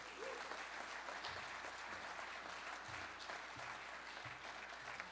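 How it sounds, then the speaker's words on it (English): Steady audience applause fills a conference hall at the Metropolitan Council's State of the Region event, welcoming the council chair, sustained and even throughout with no talking. "Please, a big round of applause for Chair Charlie Zelli."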